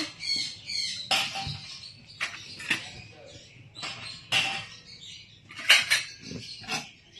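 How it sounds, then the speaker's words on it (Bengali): Small toy plates clatter and clink one after another as they are set out on a toy dining table, light sharp knocks scattered across the clip, with a faint voice in the background. "এই যে এবার ওদের সবার প্লেট নিয়ে এসছি, প্লেট দিয়ে দিচ্ছি।"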